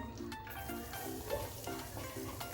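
Chopped garlic sizzles in butter and a little oil for a butter garlic prawn dish, a faint, steady crackle of frying with soft stirring, close but quiet.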